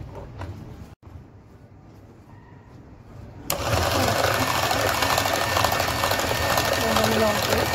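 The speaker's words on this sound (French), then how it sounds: "Après, on va mettre le batter ou le moulinette," An electric mixer beats cake batter made with separated eggs. After a quieter stretch of room noise, the motor suddenly starts whirring loudly and steadily, continuing to the end.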